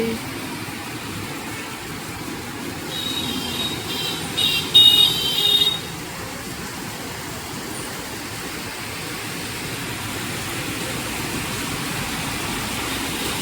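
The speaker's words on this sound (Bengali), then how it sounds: "কত বৃষ্টি হচ্ছে আজকে" Heavy rain comes down in a constant, even roar, broken once by a brief, faint electronic tone partway through.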